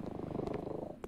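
A cat purring up close, a quiet steady rhythmic rumble of rapid pulses, ending with a couple of small clicks.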